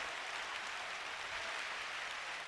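A church congregation gives a faint, steady round of applause for Jesus, a continuous even patter of many hands heard from a distance.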